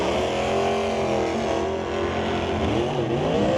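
A Ford F-250 pickup truck drag racing at a summit ET bracket race, its engine roaring steadily and loud throughout, rising in pitch with each gear shift as it pulls down the track.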